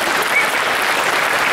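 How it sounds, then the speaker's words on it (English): Audience applause at a talk on mobile ad networks: a dense, steady wash of many hands clapping at once, fairly loud and sustained throughout with no speech over it. "A round of applause for that one"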